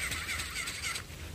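A toy bird gives a harsh, repeated crow-like cawing call, close and fairly loud, fading out toward the end.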